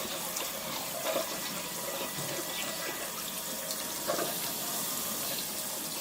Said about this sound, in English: let's clean up the other side by washing it with warm water